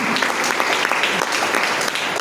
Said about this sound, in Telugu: ఒకసారి గట్టిగా క్లాప్ చేయండి మా సార్.